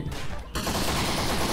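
A grenade goes off in the video game Postal 3, a sudden loud blast that lands about a third of a second in and is followed by a dense crackling roar that fills the rest of the short clip.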